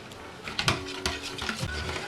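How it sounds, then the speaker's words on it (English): Milk being whisked into an egg mixture for waffle batter, a run of quick clinking and scraping strokes against a bowl with uneven, brisk rhythm, close and fairly quiet, no talking. "And now I'll mix."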